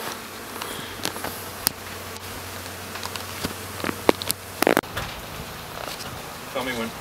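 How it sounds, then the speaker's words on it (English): Bees swarm around a hive during a bee removal while smoke is used on them, a close buzzing with sharp clicks and knocks and a louder rustle midway, mostly without talk. "See all the bees flying around?"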